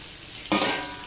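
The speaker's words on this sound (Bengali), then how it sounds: "দিয়ে পেঁয়াজ আর কাঁচা লঙ্কাটা আমি ভালো করে ভেজে নেব" Chopped onion and green chillies drop into hot oil in a pan, setting off a sudden loud sizzle that then settles into a steady, slightly fading crackle of frying, close up and with no talking.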